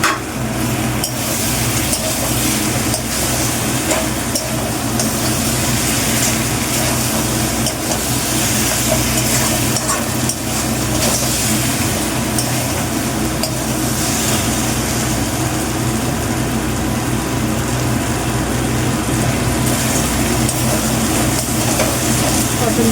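Pointed gourd frying in spiced masala in a pan over medium heat, a loud continuous sizzle with stirring scrapes and occasional clinks, steady throughout.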